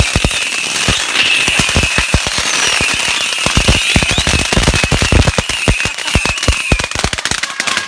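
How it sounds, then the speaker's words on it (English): Firecrackers pop in a rapid, dense string outdoors on a city street, a long crackling volley of sharp bangs over a steady high hiss, with no voices. "Set fireworks. It's gonna bomb!"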